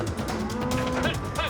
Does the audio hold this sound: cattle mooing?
yes